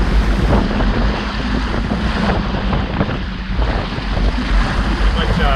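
Strong wind and breaking waves rush steadily around a sailboat on the open sea on a beam reach in about 20 to 22 knots of true wind, a loud continuous roar with gusty buffeting and no voices.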